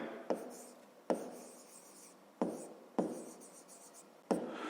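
A pen writes on paper in short scratchy bursts, about five separate strokes spaced roughly a second apart, close and quiet against a silent background.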